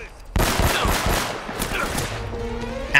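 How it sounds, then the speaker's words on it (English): Rapid enemy gunfire crackles in Uncharted: Drake's Fortune, a dense close burst of shots opening sharply and then thinning into scattered reports with lingering echo. "I say that, but they're still firing on us."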